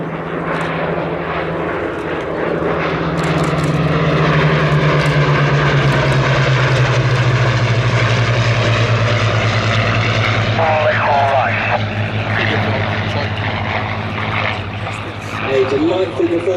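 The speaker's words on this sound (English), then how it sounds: "please get your cameras ready to the right-hand side, the final pass of our Hurricane pair." A pair of Hawker Hurricanes makes a final pass at an airshow, the piston engines droning loud and steady with a falling pitch as they go by, while crowd chatter and a commentator's voice carry underneath.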